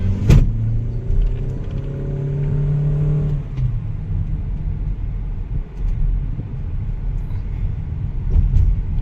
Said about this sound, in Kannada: ರೆಡಿ, ರೋಡಲ್ಲಿ ಒಂದು ಲಾಂಚ್ ಕಂಟ್ರೋಲ್ ಮಾಡೋಣ